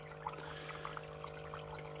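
Water flows through a gold sluice in the Kenai mountains, a faint, continuous trickle and gurgle with small splashy ticks, alone over a steady low hum.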